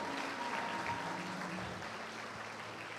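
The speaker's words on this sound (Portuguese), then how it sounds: "uma salva de palmas para a galera" A congregation applauds the crowd at a church service, a dense continuous wash of clapping heard at moderate distance, even and sustained with no break or speech.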